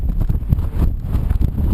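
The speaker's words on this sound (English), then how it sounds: "variation in temperature just whipped up the winds" Strong wind on Badger Mountain buffets and roars across the microphone in uneven gusts, a low rumbling rush with no voices.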